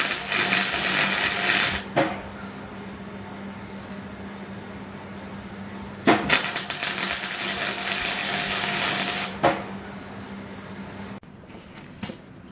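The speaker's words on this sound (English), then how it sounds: "I've drilled the ends of the cracks, so I'm just going to weld them up." Two steady, buzzing bursts of welding on stress cracks in the steel bonnet of a 1969 Ford Falcon, each run lasting several seconds, with short gaps and clicks between them and a low hum underneath.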